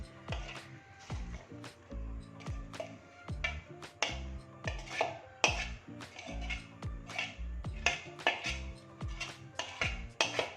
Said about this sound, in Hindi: और ये इसके अंदर शामिल करके हम इसको भी चॉप कर लेंगे